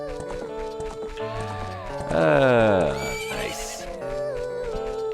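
Horse in Ocarina of Time 3D whinnies loudly in a rising, quavering neigh over game music, with hooves clip-clopping and someone talking briefly.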